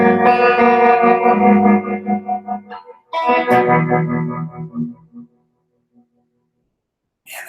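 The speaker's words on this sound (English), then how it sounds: "So let's say I go to my favorite, you know, reverb mode, and then my favorite tremolo mode, and then have fairly mild settings." Electric guitar played through mild reverb and tremolo effects, a strummed chord ringing and pulsing, then a second chord decaying into a reverberant tail before silence, loud and close with no talking.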